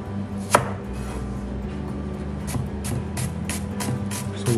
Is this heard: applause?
no